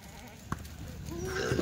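Kathiawadi goats at a goat sales farm give a faint, short bleat near the end, with soft pen noise and rustling underneath.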